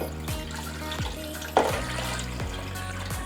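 Tap water running into a cooking pot as three quarts are measured for Portuguese bean soup with ham: a continuous splashing, gurgling pour with a brief louder splash midway, heard close and alone.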